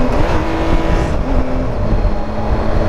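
A Triumph Tiger 1200 XRT motorcycle at a World Superbike event drops from fourth to third gear under medium throttle, its engine a steady loud drone with a pitch shift partway through, no talking.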